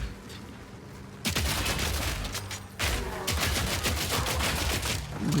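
Grenade blasts and rapid gunfire-like bursts from the video game Path of Exile 2, loud and dense, with a brief lull before a second sustained burst of explosions.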